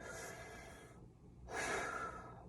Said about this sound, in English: Bad breathing.